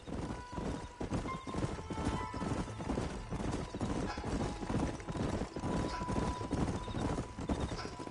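Steady rhythmic hoofbeats clip-clop continuously in the video game Red Dead Redemption, with a faint horse whinny and a thin background tone; the hooves stay close and even throughout.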